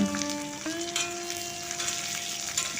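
Mustard seeds, chopped garlic, onion and chilli fry in hot oil for a Bengali-style Bombay duck curry, giving a steady, close sizzle and crackle that lasts throughout, with a faint tonal hum underneath.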